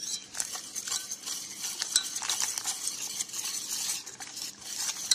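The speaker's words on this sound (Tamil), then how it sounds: "இதை இப்போ தண்ணி ஊற்றி கரைச்சிக்கலாம்." A utensil swirls and scrapes in a vessel as ragi flour is stirred into water to dissolve it, a soft continuous clinking and sloshing with no talk.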